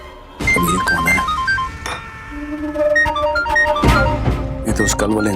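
A mobile phone ringtone plays as a bright repeating electronic melody, fairly loud, with dramatic background music from a Hindi television serial underneath.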